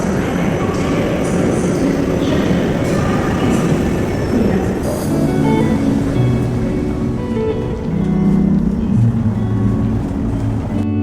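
Interior of a moving commuter train on the way to school, with a loud continuous rumble of wheels on rails, rattling carriages and brief squealing tones as it runs along the track.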